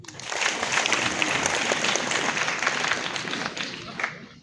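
An audience at the inauguration of a Maharashtra–Jammu & Kashmir friendship chapter breaks into loud, dense applause that holds steady and then tapers off at the end.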